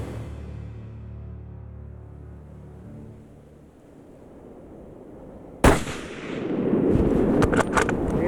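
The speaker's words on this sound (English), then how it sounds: "Oh, okay, here comes the shot." During a grizzly bear hunt in British Columbia, a single sharp, loud rifle crack breaks a quiet low rumble, followed by a rough, noisy rumbling tail.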